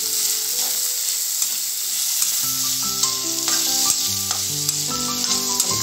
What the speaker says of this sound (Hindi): हल्का सा गुलाबी होने तक प्याज भूनेंगे।